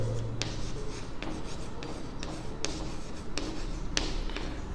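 Pen writing on paper while working a polynomial problem in a math lesson: a steady close scratching and rubbing runs throughout, marked by several sharp taps as strokes begin and end.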